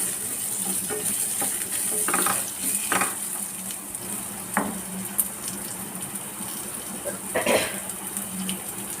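Onions sauté in coconut oil in a pan for kadala curry, a soft constant sizzle broken by several scraping stirs of a spoon, fairly quiet and close.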